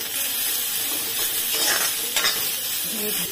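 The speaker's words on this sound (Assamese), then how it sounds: "এইখিনি লৰাই দিম ভালকৈ" Bottle gourd peel frying in a pan with salt and turmeric, stirred through in a steady, close sizzle with soft scraping of the spoon and no talk.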